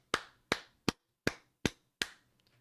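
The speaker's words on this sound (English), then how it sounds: "Everybody clap it up for Trader Crest." Six sharp claps spaced about half a second apart, crisp and close, with brief silence between each and no talking.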